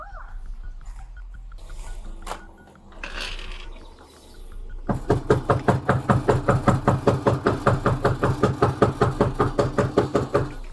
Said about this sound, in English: I'm gonna knock on the door